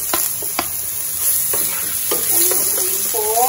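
Garlic sizzles in a hot pan for Filipino tokwa't baboy, with oil crackling steadily as a utensil scrapes and stirs in repeated strokes, loud and close.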